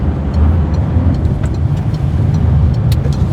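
A car engine driven in the wrong gear gives a loud, steady, low drone that fills the clip without letup.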